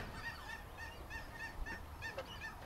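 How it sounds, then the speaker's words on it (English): A goose honks close by outdoors, giving a run of about eight evenly spaced nasal calls over a faint background. "Oh, there's a goose following us."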